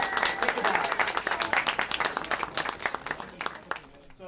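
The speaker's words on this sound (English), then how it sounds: "I also want to thank and ask for a round of applause for Daniela, our wonderful violinist." Applause at an Oscar Night event for a violinist, moderately close clapping from a smaller crowd with distinct individual claps that gradually thin out and fade.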